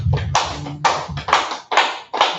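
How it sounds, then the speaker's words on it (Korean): A church congregation claps in thanks, about five loud, evenly spaced bursts of hands in a steady rhythm, close and clear with no talking. "하나님께 감사 박수 드립니다."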